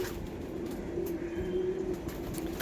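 Pigeons give soft, low coos that run in a steady, repeating murmur. They sound fairly near, with faint background hiss and no talking.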